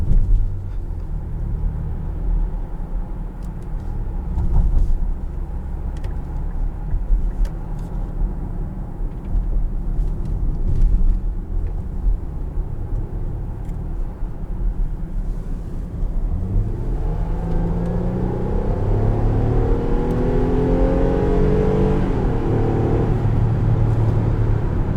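A 2022 Infiniti QX60 Autograph SUV with a 9-speed automatic accelerates, a steady engine rumble under road noise that climbs through rising tones toward the end, heard from inside the cabin.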